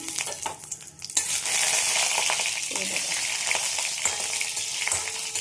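Lentil dumplings (bori) frying in hot mustard oil, a loud, dense, steady sizzle that swells after a brief quieter start and continues unbroken, close up, with no talk.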